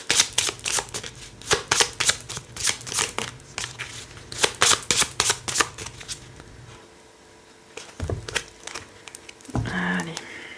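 Tarot cards shuffled by hand in a deck of only twelve, a steady run of riffling, flapping bursts for several seconds, then a pause and a few softer shuffles near the end.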